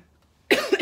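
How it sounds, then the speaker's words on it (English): A single sudden, close cough bursts out of near silence with two quick harsh pulses, heard alone during a clarinet practice session. "Excuse me as I cough on camera"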